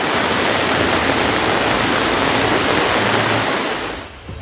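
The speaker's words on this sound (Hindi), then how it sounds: "गोकुलधाम से जलजीत रोड पर पानी तेज रफ्तार से बहने लगा" Floodwater from heavy rain rushes fast along a road in Navsari, Gujarat, a loud, steady broadband roar of churning water that runs unbroken for about four seconds before dropping away abruptly at the end.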